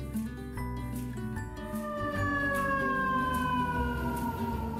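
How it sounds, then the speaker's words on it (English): A loud fire truck siren wails continuously with slowly falling tones, steady and close, with no talking. "Fire trucks have a very loud siren which tells other cars to move out of the way"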